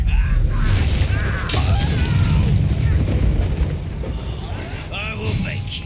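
The Confringo fire spell in Hogwarts Legacy bursts into fiery explosions: heavy booms and a roaring, crackling rumble, loud at first and easing slightly toward the end, with voices in the mix.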